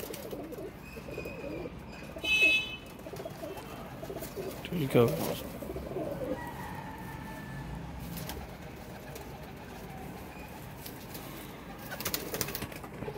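Soft, low cooing from golden pigeons drifts through a noisy outdoor scene, with occasional chirps and a person briefly speaking nearby.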